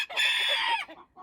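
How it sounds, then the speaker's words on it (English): A backyard hen clucks and calls while getting ready to lay an egg, one drawn-out loud squawk followed by a couple of softer clucks, close by and without talk. "a hen is getting ready to lay an egg. So that's not like a distressed sound."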